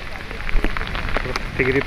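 Heavy rain pours down outdoors during a rescue operation, making a steady, dense hiss throughout, with a few voices faintly mixed in.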